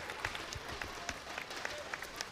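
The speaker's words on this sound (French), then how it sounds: "Et on peut les applaudir" An audience applauds at a LAN gaming tournament grand final, steady dense clapping at a fairly low level that continues throughout, with faint voices mixed in.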